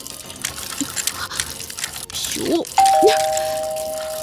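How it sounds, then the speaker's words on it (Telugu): A leaking household water tap gives a couple of distinct plinking drips over a low background hiss, joined by a steady ringing tone; a brief exclamation is heard. "నువ్వు ఫోన్ చేసినప్పటి నుంచి ఆ ట్యాప్ కారుతూనే ఉంది"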